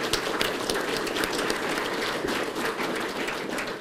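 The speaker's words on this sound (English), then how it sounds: "So let's give him a round of applause." Sustained applause from a crowd at a police captain's retirement ceremony with the Sarasota Police Department, many hands clapping steadily and fairly close, without talk.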